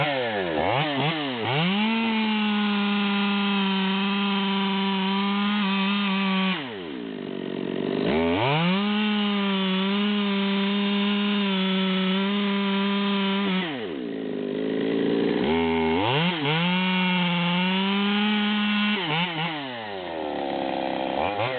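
A Stihl MS200 chainsaw cutting wood revs loudly and steadily, bogging into cuts in three long runs with brief dips between, close and continuous with no talking.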